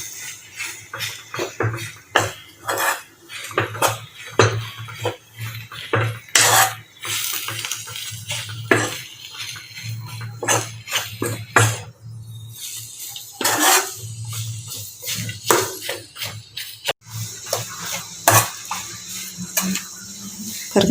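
Mashed potato being stirred into onion masala in a pan for masala dosa filling, with repeated scraping and clinking of a utensil against the pan, steady and close, no talking.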